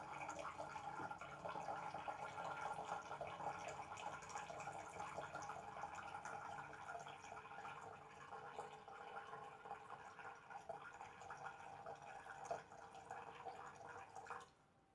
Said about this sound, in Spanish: Podemos ver cómo el agua va descendiendo